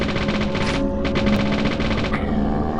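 Gunfire from the video game Deadly Premonition, a dense, loud burst of repeated shots running nearly continuously over a steady game background, with no one talking.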